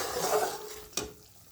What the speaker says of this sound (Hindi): ये देखिए दोस्तों, तेल छोड़ने लगा है अब हमारा मसाला। भून ले, अभी थोड़ी और कसर है।